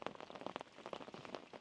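Rain falls by a canal, pattering softly and steadily on nearby surfaces with scattered distinct drops, faint and continuous throughout.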